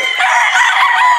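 A golden boy straight comb gamefowl rooster crows loudly and close, one sustained call filling the whole moment.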